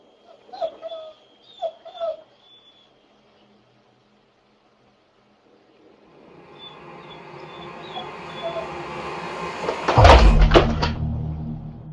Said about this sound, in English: After a moment, the dogs start whining, looking around the dresser.